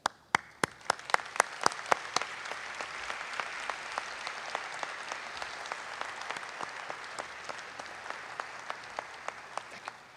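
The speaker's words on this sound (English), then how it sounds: "Would the faculty please stand and be recognized for a round of applause?" An audience claps for standing faculty at a dental school white coat ceremony, beginning with a few sharp separate claps that quickly swell into sustained, fairly distant applause.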